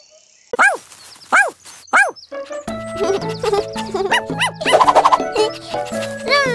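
A puppy's bark in a children's nursery rhyme song about zoo animals: three sharp, bright yips ring out alone, then a cheerful instrumental tune with sung-style melodic notes carries on.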